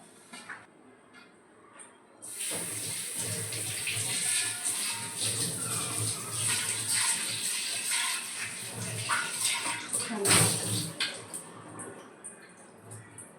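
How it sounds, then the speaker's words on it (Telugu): Copper vessels are washed under running water in a kitchen. After a quiet start, the tap opens into a steady splashing stream, with clinks and surges as the vessels are moved through it. "ఇప్పుడు వాష్ చేసి చూద్దాం"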